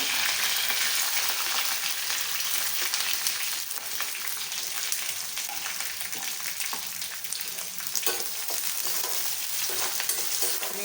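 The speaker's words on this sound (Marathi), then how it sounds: "सगळं फ्राय करायचं आहे नंतर टोमॅटो फ्लावर हे सगळं मस्त असं फ्राय करायचं" Onion, ginger-garlic paste, green chilli and tomato fry in a pan with a dense, steady sizzle and soft stirring scrapes. No one speaks.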